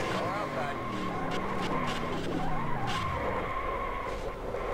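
Race car tires skidding and squealing in the NR2003 stock car racing video game, a sustained wavering screech over engine roar, with someone talking over the sound.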